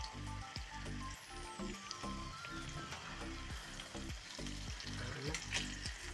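Banana fritters (pazham pori) frying in hot oil, a dense, steady bubbling sizzle throughout with a faint rhythmic pulsing, fairly quiet and alone.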